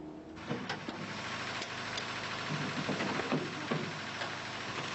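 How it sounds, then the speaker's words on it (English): A car engine idles at a fast, slightly racing speed, with a steady, close mechanical hum that runs unbroken and without any voices. "Idling speed's a bit racy."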